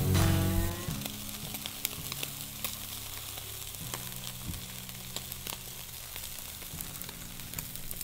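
Food sizzles in a pan with a steady, crackling hiss and scattered pops, a little louder for the first second and then settling into a continuous fry.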